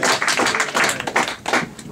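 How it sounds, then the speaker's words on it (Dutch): Audience applause for the technical crew at a Dutch comedy debut show, a dense, close burst of clapping that stays loud and steady throughout with brief dips, and no one speaking over it. "applaus voor de techniek."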